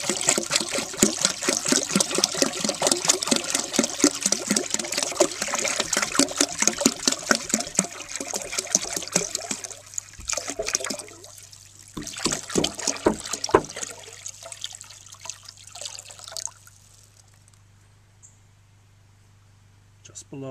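Water poured by the gallon into a 1957 Standard Cadet toilet, a steady splashing gush that lasts several seconds, breaks up into sputters and trickles, and then fades to near quiet.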